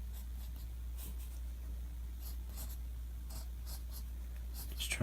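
A pencil sketches tree branches on paper with steady scratchy strokes, repeated close scraping bursts over a constant low background hum, no talking.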